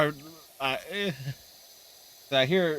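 A voice imitates the buzzing of a fly from PowerWash Simulator 2, giving short nasal hissing buzzes in two or three bursts, close and fairly loud, with a pause between them.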